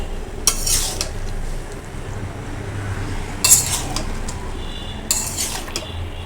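Prawn and ridge gourd curry being stirred in a pan, with three sharp bursts of a metal spoon scraping and clinking against the pan over a low steady simmer. The scrapes are close and clear, and no one speaks.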